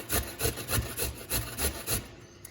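A carrot scraped across the large side of a kitchen grater in quick, steady strokes, about three per second. The rasping is close and loud, with no voices.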